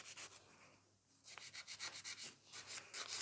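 Steady strokes of a file across fiber gel nails during a backfill, a rhythmic rasping series, close and fairly quiet, with a short pause partway through before the strokes resume.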